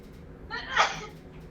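A single sneeze bursts out mid-clip during a tabletop Dungeons and Dragons game session, loud and close over a faint room murmur.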